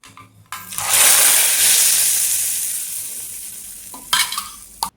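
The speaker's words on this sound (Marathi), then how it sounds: "त्यासाठी इथे तर फोडणी टाकते" A loud burst of sizzling as tempering hits hot oil for a coconut and peanut chutney, hissing steadily and slowly fading, with clinks of utensils near the end.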